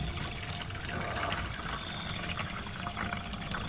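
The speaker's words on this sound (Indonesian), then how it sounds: "Oke, dituangin ke sini" Young coconut water is poured steadily into a container, giving a continuous close splashing, trickling wash with no talk.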